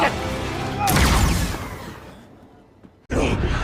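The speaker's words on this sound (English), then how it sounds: "Shots fired. One shot." A blaster shot from the Star Wars series Andor rings out as a loud burst with a whooshing tail, then a quieter stretch and a second sharp blast near the end.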